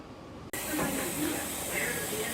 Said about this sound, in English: Once you have the steam coming out like that, you give it 10 minutes.